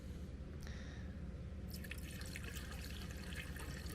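Fluid trickling and splashing as it is poured into a widebody Infiniti Q50, a steady close liquid gurgle that grows brighter and fuller partway through, with no talking.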